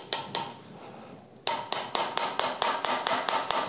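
A hammer taps on the grip of an antique German IOD 98 infantry sword, first a couple of light knocks, then a quiet gap, then a steady series of about ten sharp, close metallic strikes at an even rhythm.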